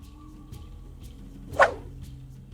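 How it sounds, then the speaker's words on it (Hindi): A dog gives a single short bark near the middle, mid-distance and fairly clear, over a low steady background hum. "पर तभी इनके कुत्ते घुर्राने लगते हैं"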